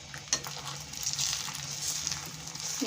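Semolina halwa cooks in a pan with a soft, steady sizzle and occasional light stirring scrapes, heard close up.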